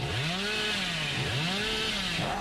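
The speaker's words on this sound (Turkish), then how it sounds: "Çok geç çalıştırıyor testereyi." Billy's chainsaw in Dead by Daylight revving in repeated rising and falling whines, about two surges close up, ending with a short sharp click.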